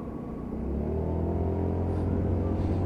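A Lexmoto Echo 50cc motorcycle pulls away with a low engine rumble that rises in revs and grows louder over a few seconds, close by.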